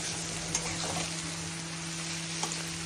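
Boiled sessile joyweed greens fry with garlic and dried red chilies in a pan, giving a steady, quiet, even sizzle with a couple of faint clicks.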